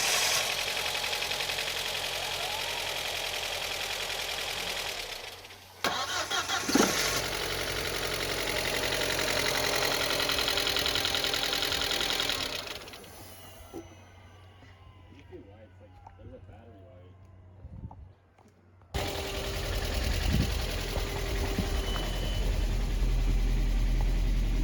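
An Audi B6 Avant, a car being revived after sitting, starts and idles with a steady mid-low engine hum. It cuts out briefly, then catches again, with people talking over it.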